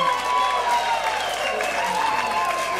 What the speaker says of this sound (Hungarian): Tehát én ilyen tapsokat fogok kérni